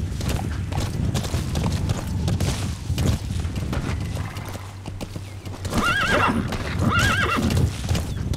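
Horse hooves clip-clop steadily, followed by two loud whinnies near the end, over a dense, busy soundscape in the video game Metal Gear Solid V: The Phantom Pain.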